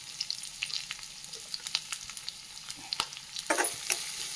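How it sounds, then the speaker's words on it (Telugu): Onions fry in hot oil with garlic paste and green chilies for semiya biryani, giving a soft, crackling sizzle broken by light spatters and the scrape of stirring, which briefly grows busier near the end. "ఉల్లిపాయలు పచ్చివాసన వేయేంత వరకు వేయించుకోవాలి"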